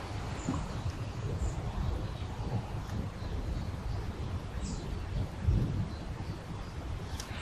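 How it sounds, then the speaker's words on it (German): Distant thunder rumbling before a storm outdoors, low soft rolling swells under a constant background hiss, with faint bird calls and no talk. "Also das Grollen kommt von da."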